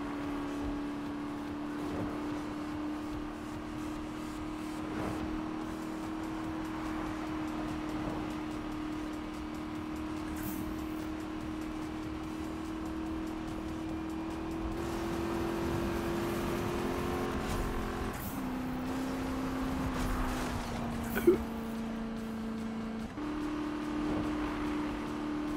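Car engine in the racing video game Need for Speed, a steady high-speed drone held at a constant pitch with slight shifts near the end and a brief sharp click.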